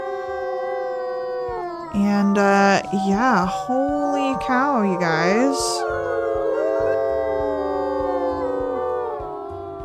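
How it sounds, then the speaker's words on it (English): A wolf pack in the WolfQuest video game howls together in victory, several long overlapping wavering howls rising and sliding in pitch, loud and sustained, while a person talks over the start. "the pack is going to howl in victory over that"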